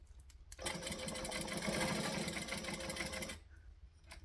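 A sewing machine stitches an altered garment in one steady, continuous run of close, loud needle chatter lasting about three seconds, with quiet before and after.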